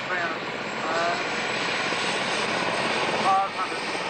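A plane comes in to touch down on the runway at the 1986 Cooma airshow, its engine a steady, fairly loud drone throughout, with faint talk in the background.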